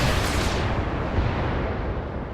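Mech weapons firing together in an alpha strike in the video game BattleTech, a dense, loud roar of booming blasts and rumble filling the whole moment, fading slightly in the highs toward the end.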